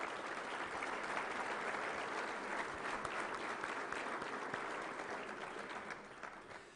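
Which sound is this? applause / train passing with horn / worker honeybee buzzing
applause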